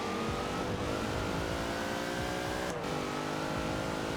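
Dodge Durango Demon SUV engine accelerating hard in the racing game Forza Horizon 4, a loud continuous rising roar with stacked harmonic drone and a brief gear-shift dip partway through, no talk over it.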